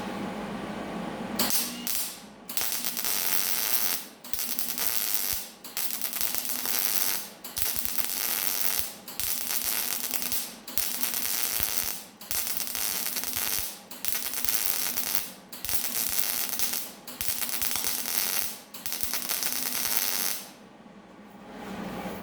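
MIG welding runs a bead on 14 gauge sheet metal in short bursts, each a loud crackling buzz lasting about two seconds, separated by brief pauses, repeating around eight times in an even rhythm.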